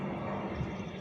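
A steady, broad roar fills the whole moment, like a low-flying airplane passing overhead at an anchorage in Amsterdam, loud and continuous with no talking.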